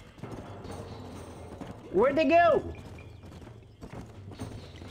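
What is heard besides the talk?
horses galloping, clip-clop hooves, from video game Red Dead Redemption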